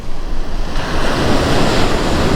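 Pacific Ocean surf on a windy stretch of the Japanese coast, loud and close, a continuous roar of breaking waves mixed with buffeting wind noise on the microphone.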